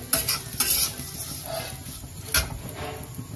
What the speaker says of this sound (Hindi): अब हम इसमें डालेंगे सेवई और इसे हम मीडियम आंच पर भूनेंगे कुछ इस तरह से